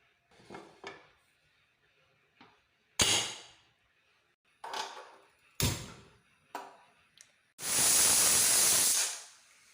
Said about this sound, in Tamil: ஒரு 5 விசில் விட்டு எடுத்துக்கலாம்.